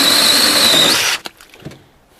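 A Troozy 6-inch cordless electric chainsaw cuts through hardwood with a loud, close, high-pitched whine that lasts about a second, then stops and leaves only faint wood clatter.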